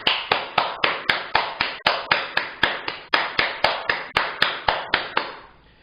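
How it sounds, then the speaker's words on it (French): A steady, rhythmic run of about twenty sharp, close claps in an evenly spaced pattern, each strike crisp with a short decay, with no voices. "J'aimerais qu'on applaudisse très fort pour ce compatriote."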